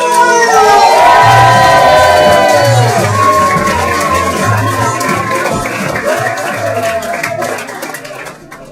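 A comedy club crowd at a science-themed stand-up night cheers and applauds a comedian taking the stage, loud and sustained with shouts over continuous clapping that slowly fades.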